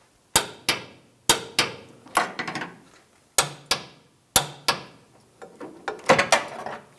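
Torque wrench tightening bolts to 30 foot-pounds on a 2011-2018 Ram 1500 3.6L fuel pump job: a series of sharp, close metallic clicks, some single and some in quick clusters, separated by short quiet gaps, with no talk.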